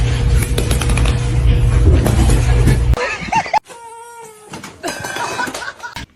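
A kitten meows in several short, loud, high calls close by, after a burst of rustling and handling noise.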